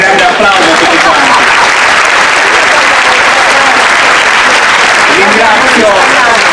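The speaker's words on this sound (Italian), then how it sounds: "io gli dedicherei un grande applauso a tutti quanti" Crowd applause for festival participants at the 125th Festa del Redentore in Nuoro, loud sustained clapping from many hands filling the whole stretch, with voices mixed in.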